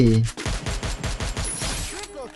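Rapid automatic gunfire in Free Fire, a steady run of close, evenly spaced shots lasting about two seconds, loud and fairly close.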